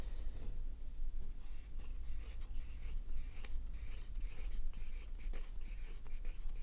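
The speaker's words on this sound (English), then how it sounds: "You can even hear the difference on paper, the friction." A mechanical pencil scratches across paper in close, soft strokes with a steady, rhythmic friction, while a faint low hum sits underneath.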